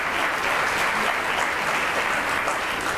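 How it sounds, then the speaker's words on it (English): An audience at a school retirement and wall of fame reception applauds steadily for three seconds, a dense wash of many hands clapping with no talk over it. "Once again, a big round of applause."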